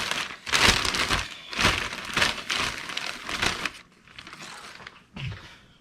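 A big envelope crinkles and rustles as it is handled for packing, with several loud crumpling bursts close up, then quieter shuffling and a final soft thump.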